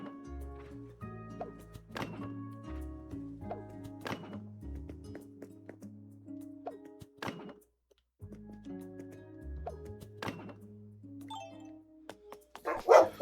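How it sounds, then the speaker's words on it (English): A pet dog barks indoors during a live game-building stream, giving a few sharp, separate barks spaced a couple of seconds apart over a steady low hum and tonal background music. "Can you all hear this barking girl?"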